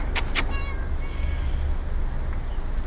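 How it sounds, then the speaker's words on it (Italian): A cat meows, with a couple of short high calls and a drawn-out tonal cry, close by over a steady low rumbling background. "Ombretta, il gatto."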